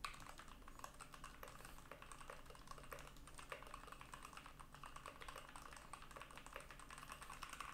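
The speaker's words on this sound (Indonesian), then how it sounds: "Dan sekarang gue akan coba ngetik di keyboard red switch." Steady typing on a mechanical keyboard with red linear switches, recorded through a USB gaming headset microphone; continuous rapid keystrokes at moderate level with no talking.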